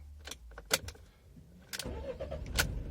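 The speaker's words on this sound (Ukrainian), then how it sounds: "Завів, зразу заглушив." A 2020 Citroen Jumper van's engine briefly cranks and catches, then is switched off right away, with a short mechanical burst standing alone and nearby.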